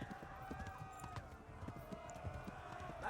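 Hooves pound in a quick, rhythmic gallop as a horse runs in the medieval video game Kingdom Come Deliverance, with a steady clip-clop over the game's background sound.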